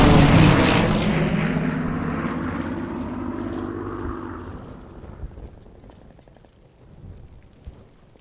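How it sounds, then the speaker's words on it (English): Enemy aircraft roar overhead in the Call of Duty WW2 video game, a loud rumbling pass that slowly fades into the distance, with scattered thuds and distant impacts trailing behind. "Now their aircraft will bomb our forces."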